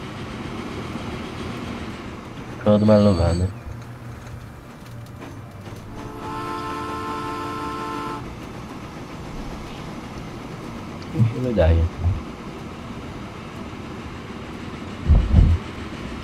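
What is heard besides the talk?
train running in video game Transport Fever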